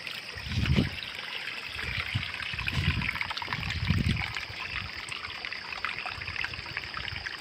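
Water flows down a hillside in the mountains, a steady outdoor trickle and rush running throughout, with a few dull low thumps now and then.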